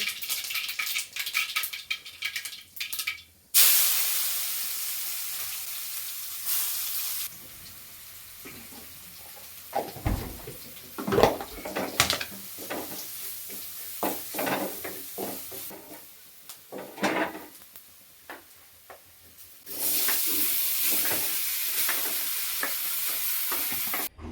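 Jackfruit pieces fry in hot oil with a steady sizzle that comes and goes, broken up by stirring and clinks of a utensil against the pan, heard up close with no talking.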